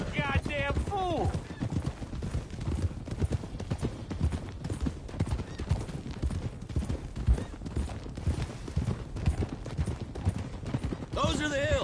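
Horses galloping in a Western cowboy video game, rapid clip-clop hoofbeats running throughout, with a horse whinny near the start and end, gunfire bursts and voices talking over the action.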